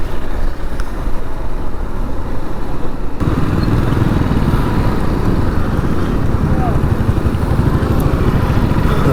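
A 250cc motorcycle engine runs steadily while riding on an open road, a continuous close drone with wind rush that grows fuller after the first few seconds, no voices heard.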